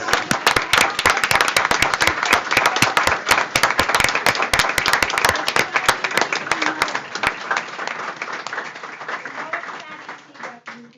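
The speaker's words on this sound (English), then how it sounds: "One more round of applause." A standing round of applause from a board meeting audience, loud dense clapping sustained for several seconds before thinning out and fading near the end.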